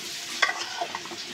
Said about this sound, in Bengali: এখন কচুর গাঠি আর আলুটা আমি কষিয়ে নেব